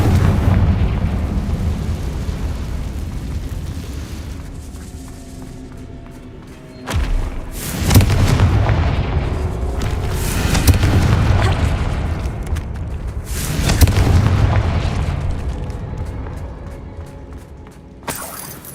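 Booming spell explosions from Bombarda and Confringo in Hogwarts Legacy, several loud thudding blasts with shattering debris, separated by brief lulls over a low rumbling background.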